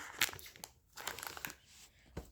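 Packaging of a mystery Minecraft box crinkles and crunches up close, with irregular sharp rustles and small crackles scattered over a couple of seconds.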